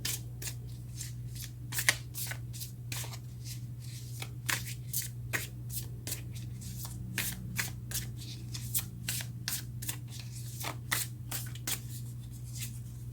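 Tarot cards being shuffled by hand: a long run of quick, crisp riffling slaps and flicks in a steady irregular rhythm, close and fairly soft over a low constant hum, with no talking.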